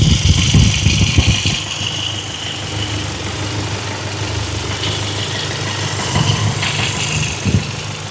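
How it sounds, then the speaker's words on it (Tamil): A 2020 Hyundai Creta SX diesel idling with a steady low rumble and a constant fan hiss, slightly rougher in the first second or so, with no talk over it. "Engine noise கேட்டுருவோமா?"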